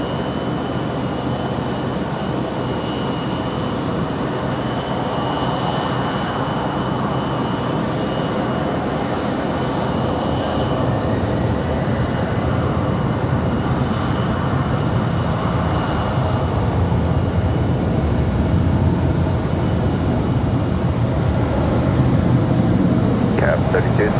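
An airliner readies for departure at Raleigh-Durham International Airport: a steady, broad engine roar holds for the whole stretch at moderate distance, with faint voices murmuring beneath it.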